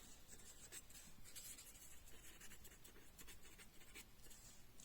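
A chemistry teacher writes on a board during a class lesson, a faint run of soft scratchy strokes coming in short bursts in a quiet room.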